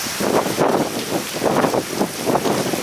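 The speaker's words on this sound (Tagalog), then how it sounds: "Sinabayan din ito ng malakas sa bugso ng hangin." Strong wind buffets the microphone in rushing, rising and falling gusts, loud and close throughout, during a storm with flooding in Baguio City, Philippines.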